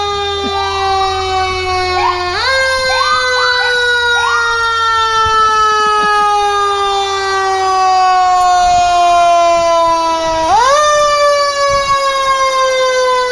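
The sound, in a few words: fire and police vehicle sirens at a parade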